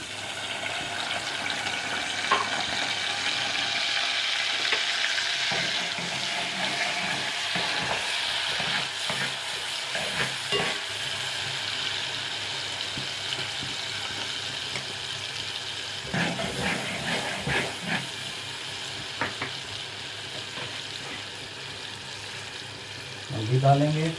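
A single onion frying in a pan for beef handi kebab masala, a continuous sizzle with occasional stirring scrapes and clatters running throughout, moderately loud and steady.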